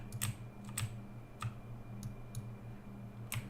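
Keyboard keys tapped to steer a plane through canyons in Kerbal Space Program, with scattered clicks in irregular bursts, fairly close and light, over a steady low electronic hum.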